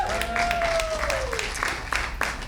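A comedy club audience breaks into applause and some cheering at a stand-up show, a clapping wash lasting the whole moment beneath a raised voice.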